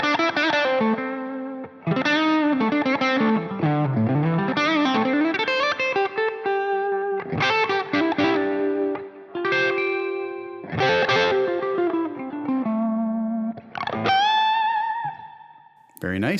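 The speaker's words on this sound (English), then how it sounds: "Very nice reverb." Electric guitar run through a Line 6 Helix chamber reverb, played as ringing chords and sliding notes that bloom into a lingering wash of decay, loud and close, with no talking over it.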